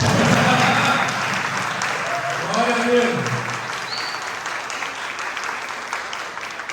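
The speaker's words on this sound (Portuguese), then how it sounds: "Quem vem, glorifica o Senhor com seus palmas." Applause from a church congregation during a celebration service, sustained clapping from many hands that fades gradually while a voice speaks over it and briefly sings.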